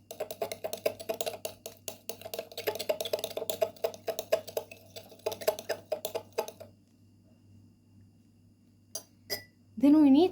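A spoon clinks and taps rhythmically against a bowl as ingredients are stirred together, a quick irregular series of light knocks that stops after several seconds, followed by brief quiet and a short voice near the end.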